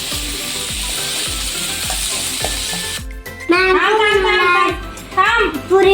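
Potato mixture with coriander sizzles steadily in a hot pan with occasional stirring clatter, then a voice talks over the frying in the second half.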